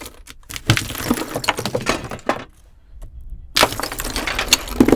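Ice holding trapped compressed air cracks and bursts in a run of sharp, close snaps and pops, with a short quiet gap midway before a louder burst of crackling.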